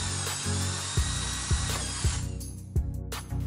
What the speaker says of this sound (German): Ich mache das mit dem Bohrer Nummer 4.